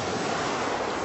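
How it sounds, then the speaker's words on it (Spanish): Sea waves breaking on a shore, a steady broad wash of surf with no pauses, loud and close, blended with a faint rumble like wind noise and no voices. "el sonido de las olas rompiendo es gris"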